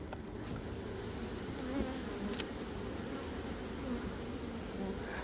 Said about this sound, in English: So here comes the bees.